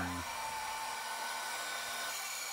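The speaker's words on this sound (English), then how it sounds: "just using the bandsaw here to make it easier on the cut" A bandsaw runs steadily while cutting a thin bass pickguard template for a Squier Contemporary Active Jazz Bass HH 5-string, giving a continuous close, even whine with no pauses.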